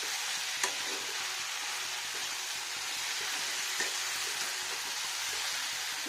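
Boneless chicken and mixed vegetables fry in a pan with a steady, even sizzle and hiss, broken by occasional faint stirring taps.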